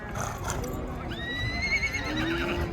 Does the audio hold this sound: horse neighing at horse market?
yes